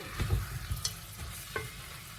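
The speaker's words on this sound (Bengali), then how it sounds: "এবার মাংসটাকে ভালো করে কষতে হবে।" Meat premixed with biryani masala and yogurt sautéed in a pan, a close crackling sizzle broken by quick scraping stirs and soft knocks of the spoon.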